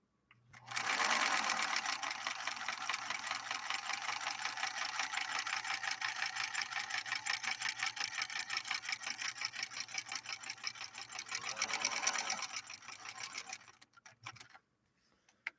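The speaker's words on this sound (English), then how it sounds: "Final column of straight stitching on protected full grain leather." A Bernina 125 portable sewing machine runs steadily for about thirteen seconds, straight stitching through protected full-grain leather, a fast even mechanical rattle, close and loud, then slows and stops.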